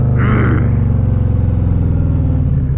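A motorcycle engine rumbles loudly up close with a deep, throbbing exhaust note and a brief rev near the start, then holds a steady idle-like pulse on a ride-along.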